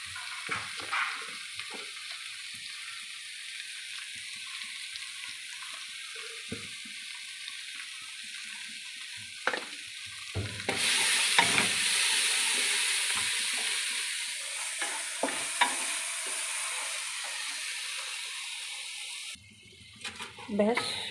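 Spice masala with salt and sugar sautés in a pan, a close crackling sizzle with intermittent stirring clinks that surges louder midway, while a voice speaks at times.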